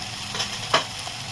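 Mustard seeds, cumin and spices crackling in hot oil for a tempering, a brief soft sizzle with one sharp pop or utensil clink near the middle, close and without speech.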